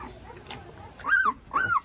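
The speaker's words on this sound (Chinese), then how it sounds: "你那小狗听着呜呜的" Two short, high whimpers from newborn Canary Mastiff (Presa Canario) puppies, about 13 days old, come close together near the end, each a thin rising-and-falling whine over a quiet background.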